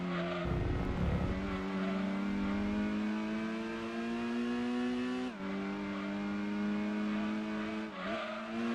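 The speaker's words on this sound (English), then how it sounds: "No other game since has managed to do such a brilliant turbo sound." A Dodge Neon turbo engine in Gran Turismo 2 drones loudly and steadily with a rising whine through the gears, two brief dips marking quick shifts, alone without any talk.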